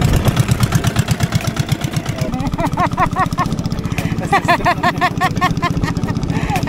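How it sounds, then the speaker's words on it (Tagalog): A boat motor runs steadily on a river trip toward Pagsanjan Falls in Laguna, Philippines, a loud, close, throbbing drone under people talking. "Yung motor."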